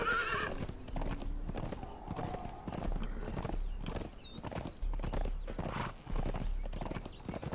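Video game horse in Conan Exiles clip-clopping along at a steady walk, hooves thudding rhythmically and close, with a few whinnies and neighs breaking in over the top.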